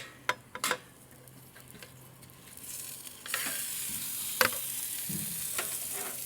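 A 50-day dry-aged rib steak's bone end sears in a hot pan, with a few soft knocks at first, then a steady, fairly quiet sizzle that swells after a few seconds.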